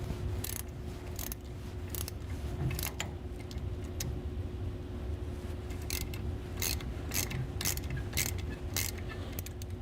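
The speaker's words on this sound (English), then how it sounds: "we'll take 17mm wrench on this particular clutch and loosen" A 17mm wrench loosens the nut on a slip clutch, giving a run of sharp ratcheting clicks in uneven bursts over a steady low mechanical hum, close by with no talking.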